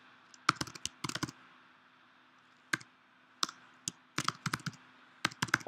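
Typing on a computer keyboard while entering commands in a Linux terminal: irregular clusters of quick, crisp key clicks separated by short pauses, close and fairly quiet with a faint hum underneath.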